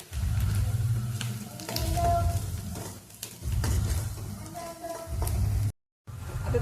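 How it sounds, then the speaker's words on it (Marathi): Turmeric and ghati masala are fried in oil for a village-style mutton rakti, giving close bursts of scraping stirring and soft sizzling that stop and start in short spells. "ते तेलात चांगलं भाजून घेऊया।"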